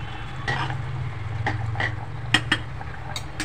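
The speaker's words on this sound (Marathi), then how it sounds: "मिक्स करा हलक्या हाताने" A spoon stirs paneer pea pulao with fried paneer and cashews in a pot, soft scraping strokes over a low simmering hum, with a couple of light clinks against the pot.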